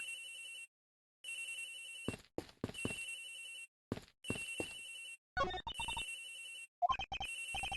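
Cell phone ringing in the video game Ace Attorney Investigations, a repeating electronic ring tone in bursts separated by short gaps, interrupted by quick clicky game sound effects.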